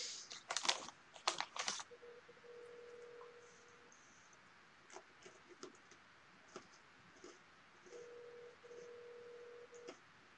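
A phone being dialed in Town of Salem: a quick cluster of keypad tones up front, then sparse single presses and two longer steady ringback-like tones, quiet and alone without talk.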